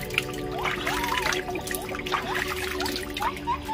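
Waterfall stream in a hilly tribal area, with a steady rushing wash of flowing water and repeated short bird chirps over it, with no voices.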